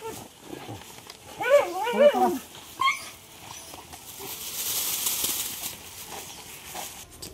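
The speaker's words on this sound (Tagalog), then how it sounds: "update ko lang kayo sa mga tuta ni Papika" Nursing puppies give soft, high whimpers and yips close by in a rural Philippine home, a short cluster of cries followed by quieter rustling and faint background hiss.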